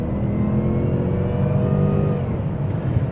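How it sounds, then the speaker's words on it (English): A Jaguar XJ Super V8 (X350) accelerates hard on a de-restricted road, its supercharged engine roaring loudly and steadily from inside the cabin, with a rising mechanical whine woven into the low drone. "Supercharger whine, hopefully you can hear a little bit."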